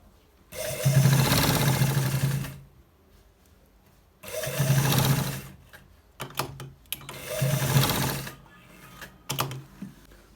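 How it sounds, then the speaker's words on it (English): Sewing machine stitching a trouser side pocket in three separate bursts, each running a couple of seconds with short pauses between, close and fairly loud. "So we are stitching to the down part."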